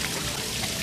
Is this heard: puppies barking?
no